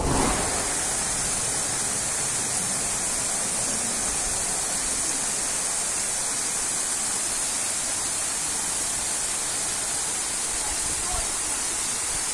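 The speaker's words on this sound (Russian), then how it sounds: "Водопад Труфанець." The Trufanets waterfall in the Carpathians, a 36-metre, five-tiered cascade beneath a road, roars with a steady, dense, close rush of falling water that never lets up.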